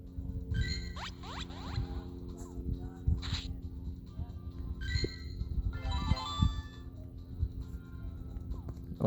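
Pokemon Go slot-machine-like jingle of bright chiming tones and short rising blips, moderately loud over a low background rumble, with a voice talking briefly.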